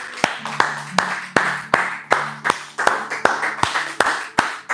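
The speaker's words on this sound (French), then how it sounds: "Applaudissons pour Jésus." A church congregation claps hands in a steady rhythmic beat, about two sharp claps per second, close and clear, with faint voices and a low tone beneath.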